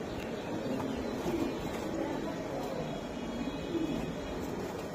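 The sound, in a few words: Andalusian racer pigeons cooing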